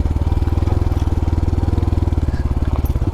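A Honda Trail 125 Hunter Cub motorcycle fitted with a Yoshimura exhaust idles close by, giving a loud, steady, rapid thumping throb with no change in pace.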